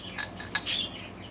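Four pet budgies chirp and twitter in short bright bursts, fairly close, with a low room hum underneath.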